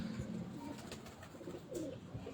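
Pigeons coo softly in low, rolling phrases, several calls in a row at a moderate distance, with no talking.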